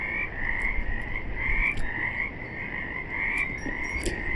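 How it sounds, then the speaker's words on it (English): Frogs at a pond croak in a dense, continuous chorus of rhythmic pulsing calls, close and fairly loud, with a few sharper chirps standing out over the steady drone. "Do you hear these frogs?"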